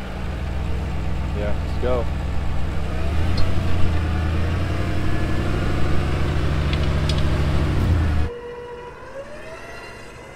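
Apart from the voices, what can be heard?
vehicle engine given gas in a sand chute rescue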